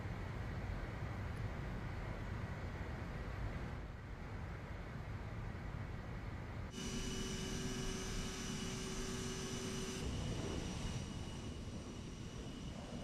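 A CRJ jet engine in Microsoft Flight Simulator 2020 gives a steady, loud broadband roar. A whining tone joins midway, holds for a few seconds, then drops away.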